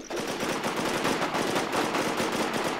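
Continuous automatic gunfire from a PvP shootout in the survival game The War Z, loud and close, with rapid overlapping shots and no talking.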